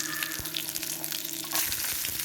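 Shallots and chopped coconut frying in hot coconut oil in a pan, a steady close sizzle and crackle with occasional stir clinks, no voices.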